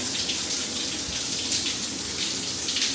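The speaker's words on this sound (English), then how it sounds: "you got the ultimate shower." A shower in a Carnival Celebration Excel suite bathroom runs with a steady, dense spray of water, loud and constant throughout with no voices.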